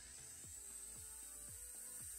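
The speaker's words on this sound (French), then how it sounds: "Donc j'allume ma ponceuse" Electric nail sander with a cuticle-removal bit running steadily, a constant high whine with a faint repeating rotational rhythm, close and alone with no talk.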